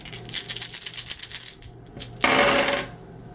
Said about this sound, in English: on your turn, you roll all 6 dice